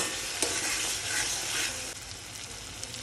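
Steady loud sizzling of food frying in a hot pan, with occasional stirring scrapes and crackles throughout.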